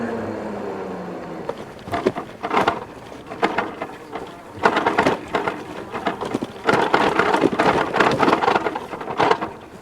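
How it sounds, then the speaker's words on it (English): Running boards on a cargo e-bike rattle steadily as it rides over grass, a dense clattering noise that swells in bursts with the bumps of the ground throughout; no speech. "So that noise you hear is just the running boards."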